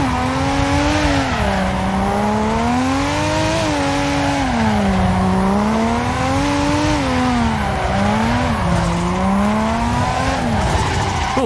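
Car drifting in the Assetto Corsa racing simulator, a loud engine held high in the revs that wavers up and down while tires squeal and skid continuously through the slide.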